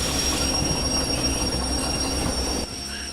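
A steam locomotive in the Derail Valley game brakes to a stop, its wheels squealing in a steady high whine over a loud, continuous rolling rumble that eases slightly near the end.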